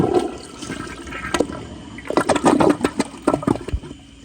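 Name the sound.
Kohler Highline Class 5 toilet flushing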